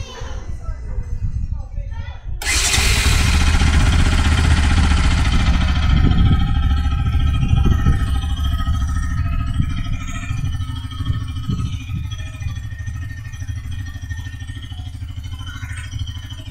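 A Bajaj Pulsar NS 200 motorcycle, just refilled with coolant, cranks and fires up after a couple of seconds, then settles into a loud, steady idle close by while voices talk in the background.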